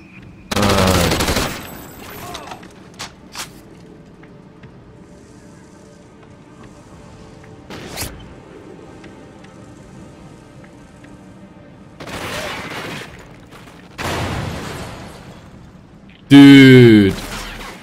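Gunfire in Call of Duty: Ghosts multiplayer: a loud, close burst of shots near the start, then scattered single cracks and a couple of later bursts ending in a sharp, loud volley, with quiet game ambience between.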